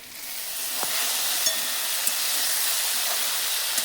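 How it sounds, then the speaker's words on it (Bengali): Okra frying in a covered pan, a steady close sizzle and hiss with a few small pops, no one talking. "ভেন্ডি ভাজা ভাজা হোক"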